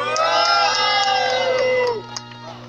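Crowd at a Brazilian freestyle rap battle semifinal cheering and whooping loudly, a dense roar with shrill voices that fades out abruptly near the end.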